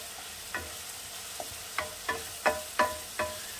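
Food fries quietly in a pan while cooking catla fish korma as a utensil stirs, with about seven scraping strikes in an uneven rhythm over a soft sizzle.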